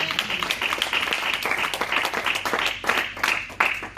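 A church congregation applauds and acclaims Jesus with sustained, fairly loud clapping and scattered cheering filling the room for several seconds.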